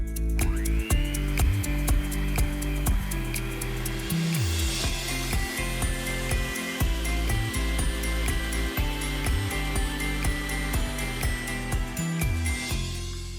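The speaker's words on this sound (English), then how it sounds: "And I'm going to whisk this until it's fluffy." An electric mixer whisks eggs and raw caster sugar in a bowl until fluffy, a steady motor whine with rhythmic clicking and knocking of beaters against the bowl throughout.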